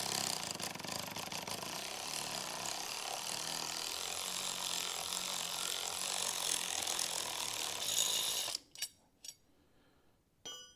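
A ratchet wrench tightens a nut on a racing rig with a dense, continuous rapid clicking that runs for several seconds, then breaks into a few separate clicks before stopping.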